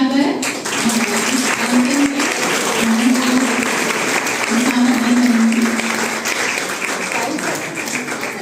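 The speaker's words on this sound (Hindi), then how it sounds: "हम सभी ताली बजाकर" An audience applauds steadily throughout at a book launch event during an August Kranti festival, continuous clapping filling the room with a loud, even wash of sound.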